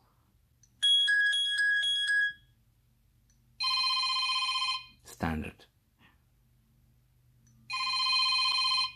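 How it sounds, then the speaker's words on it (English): Several Sony Xperia Z phone ringtones play one after another, bright electronic chiming melodies in separate bursts with short pauses between them, with a brief spoken word in the middle. "So many ringtones. It's incredible."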